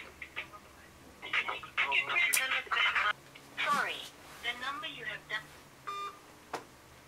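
Phone keypad tones beep in a series of short dialing bursts, faint and close, interleaved with a voice talking.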